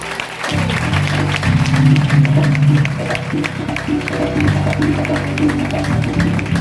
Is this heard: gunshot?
no